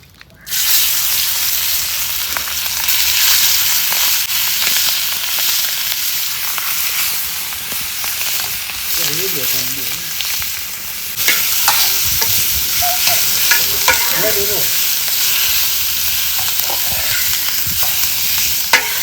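Prawns coated in masala frying and being stirred in hot oil for a village-style prawn fry, a steady loud sizzle with scraping stirs, and brief background voices partway through.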